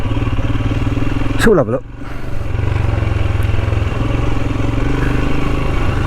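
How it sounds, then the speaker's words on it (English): Royal Enfield Himalayan motorcycle engine running steadily while riding, a loud, even, clattery thrum close by, with someone speaking briefly over it. "it's a bit noisy, it's a bit clattery and bangy, but it's a nice bike."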